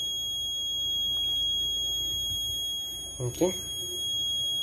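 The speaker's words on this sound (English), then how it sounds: "Red LED on. Alarm also on." Alarm buzzer of a Raspberry Pi Pico coal miner safety and health monitoring system sounds as a steady high electronic tone throughout, near and loud, while someone speaks briefly near the end.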